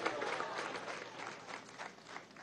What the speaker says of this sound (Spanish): Un buen aplauso a nuestro hermano embajador de Belarus.